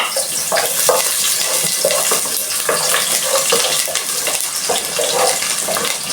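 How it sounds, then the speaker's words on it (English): Onion frying in hot oil, a loud continuous hiss and crackle that stays dense and even throughout, with no voices. "I'll wait my oil to heat, then I add my onion and garlic."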